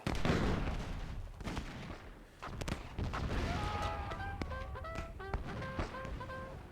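Cannons in the video game Myth II Soulblighter firing amid a busy battle, with dull booms and thuds mixed with scattered explosions, crackling hits and short tonal game effects.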